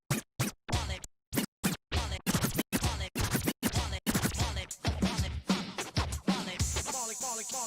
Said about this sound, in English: Can we hear your funky fresh scratching again?